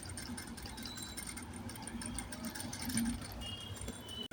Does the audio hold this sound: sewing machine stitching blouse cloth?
yes